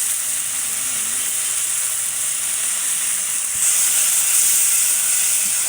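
Aubergine with turmeric, salt and ground cumin sautés in a pan, giving a steady broad hiss and sizzle that holds constant, growing slightly louder partway through, with no talk.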